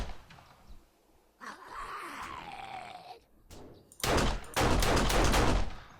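Gunfire from turrets firing through a gap in a 7 Days to Die base in Alpha 16, with rapid bursts of shots near the end after a quieter stretch, alongside a voice talking.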